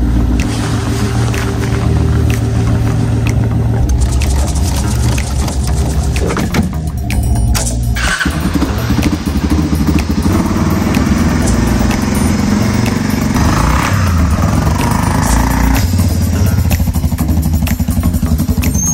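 A modern Honda utility four-wheel-drive quad running its engine: a loud, steady, close motor drone with rattling and wind-like rushing throughout, plus a brief dip and clatter partway through, and some talk underneath.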